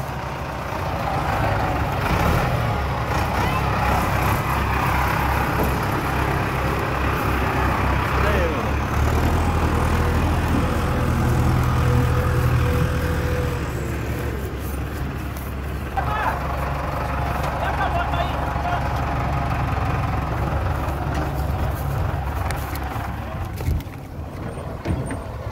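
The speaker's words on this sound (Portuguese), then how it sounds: "Agora o trator tem força, tá vendo?" A tractor engine labours while pulling a Toyota Hilux out of deep mud, a loud, heavy rumble that swells and eases, with people talking over it throughout.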